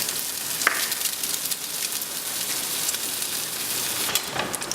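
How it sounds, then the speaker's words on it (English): A couple of eggs frying on a Eurostoves Culinarian griddle, giving off a steady, even sizzle like light rain, with a few faint pops and crackles and no talking. "What I'm going to do now as well is just throw a couple of fried eggs."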